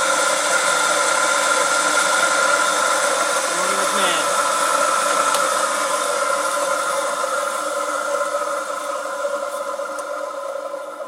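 A regen alternator test stand spins at full speed, giving off a loud, constant mechanical whine with layered tones and a faint hum that hold steady throughout, fading only slightly at the end.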